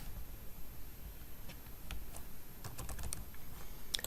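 Code being typed on a computer keyboard: scattered, light key clicks in short irregular bursts over a steady hiss of room noise, close and quiet with no speech.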